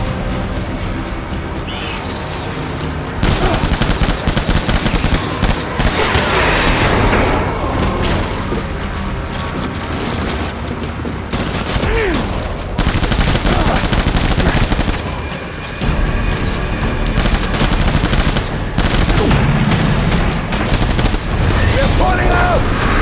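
Heavy gunfire rages in the video game Death Stranding Director's Cut on PC: sustained automatic bursts and booming shots, loud and dense, with voices surfacing now and then in the chaotic battle din.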